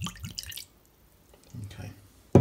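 Tanqueray alcohol-free gin poured into a glass gives a brief, soft liquid trickle after a stretch of talking, followed by a quiet pause and a sharp knock at the end.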